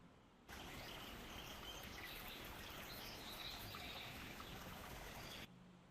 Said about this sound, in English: I don't know if you could hear the birds or the freezing noise. I have added that